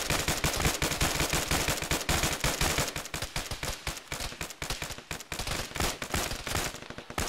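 Dense, sustained gunfire from a military video game (Arma, ShackTac), with rapid overlapping bursts and single shots rattling close and loud for the whole stretch, never pausing.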